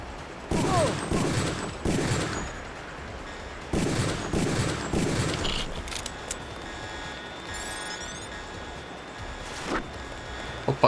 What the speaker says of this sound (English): Oh fuck, he's got a machine gun.